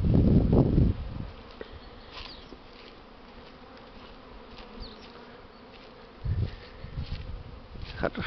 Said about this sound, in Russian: Ой, с обножкой пчела.